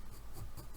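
An Inktense pencil drawing pink stripes over aloe vera gel on fabric, a brief close scratchy rubbing of a few quick strokes, faint and alone.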